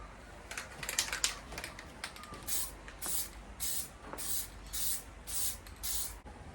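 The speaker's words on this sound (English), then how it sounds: "now we're just gonna lay on the clear coat" A spray gun lays clear coat onto a car wing in about seven evenly spaced hissing passes, each a second or so long, close and alone after a few faint taps at the start.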